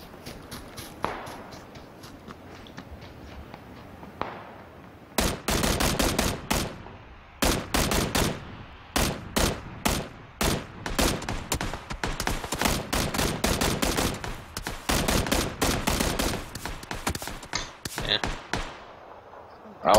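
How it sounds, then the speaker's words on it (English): Rapid bursts of gunfire from PlayerUnknown's Battlegrounds, with close shots and short automatic volleys repeating irregularly through most of the stretch after a quieter opening with faint footsteps, loud and sharp. "I was taking shots from multiple directions."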